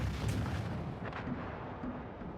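Naval guns firing in a warship video game, with the 32-gun battleship Hyuga shooting at point-blank range during a base defense, give a steady dense roar of booming gunfire and bursts throughout.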